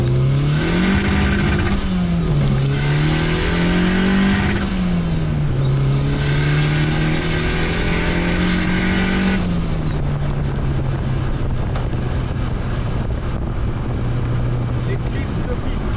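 A rebuilt car engine revving repeatedly against the rev limiter during break-in, loud and close, with the pitch climbing, bouncing and dropping in cycles before settling into a steady high drone.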